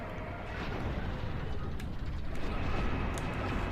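A long elevator ride up to the upper decks in a video game, a steady rumbling mechanical drone with faint clanks and creaks running throughout, moderately loud with no talk.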